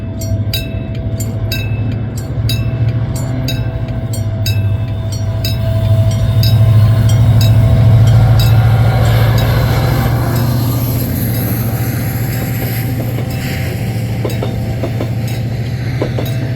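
A two-car Mugunghwa diesel train rumbles past slowly at close range, a deep engine drone swelling and then easing, with rhythmic clatter from the wheels on the rails.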